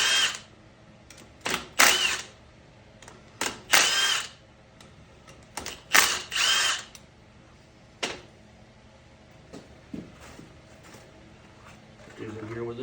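A power drill spins out the four screws on the turbo of a 2007 GMC Sierra 2500HD Duramax: about six short, loud whirring bursts separated by quiet pauses, with faint clicks between them.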